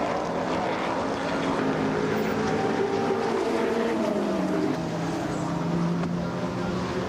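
An older-body Chevrolet Camaro race car with a 5.8-litre Chevy engine drones steadily at a motor race, its pitch sweeping up and down as it passes at a moderate distance, with no talk.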